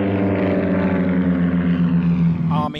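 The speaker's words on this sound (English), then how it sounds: "Army bombing plane V-843 off Bayonne, New Jersey." Droning engines of an army bombing plane in a radio play, a steady low propeller roar with strong harmonic hum that holds level and close, then briefly shifts in tone near the end.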